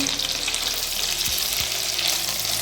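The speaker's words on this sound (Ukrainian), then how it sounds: "Так, перевертаємо наші котлетки." Steady loud sizzling of meat cutlets frying in a pan, with a couple of brief low knocks as they are turned over.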